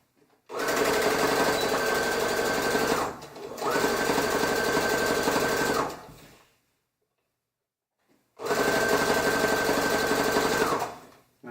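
A sewing machine stitches a shirt side seam in three rapid, loud bursts of rattling stitching, separated by short pauses and a longer silence.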